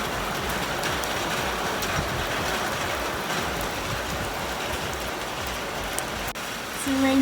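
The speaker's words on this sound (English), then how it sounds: "It's a rainy day in Gulu today." Steady rain pours on a wet day in Gulu, Uganda, heard from indoors as a dense, even hiss that carries on without a break, with a faint knock near the end.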